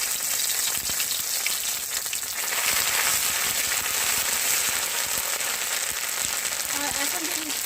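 Ginger dropped into hot oil in a pan for a village-style elephant apple pickle fries with a steady, dense sizzle and crackle that holds at an even level throughout, with a faint voice near the end.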